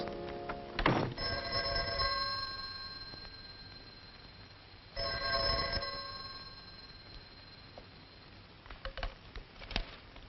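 An old telephone bell rings twice, several seconds apart, each a bright, ringing metallic peal that fades slowly, heard on a thin, old-sounding recording with faint clicks near the end.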